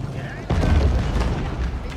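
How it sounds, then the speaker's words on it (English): A wall is broken down in a strategy video game under trebuchet attack: one sudden heavy boom, then a sustained rumbling crash of battle noise that carries on to the end. "And the wall's been broken."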